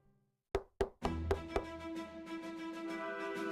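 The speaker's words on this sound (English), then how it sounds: "she knocked twice and waited" Knuckles rap on an apartment door in a dim, run-down hallway: two sharp separate knocks, then a quicker burst of three, loud and close, fading into a low lingering hum.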